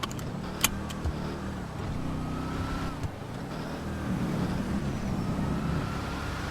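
Inside a moving car there is a steady low rumble of road and engine noise, with a few faint clicks and a mild swell toward the end.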